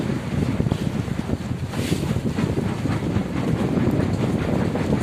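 A boat heads into the Sundarbans with a continuous low engine rumble and water rush, buffeted by heavy wind noise against the microphone, loud and steady throughout without speech.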